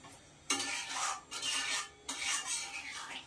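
Thick mango pulp for aamsotto stirred in a pan, soft scraping strokes of a spoon against the metal repeating in three bursts, fairly quiet and with no voices.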